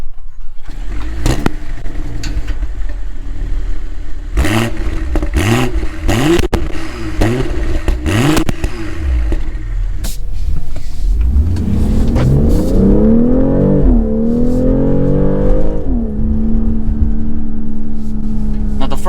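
A 2023 BMW X3 M40i with the B58 engine starts and revs in sport mode, then accelerates hard at full throttle in the city, loud and close with rising engine pitch, and a voice talks over the first part.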